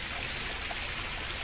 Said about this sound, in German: Oh, eine Dusche.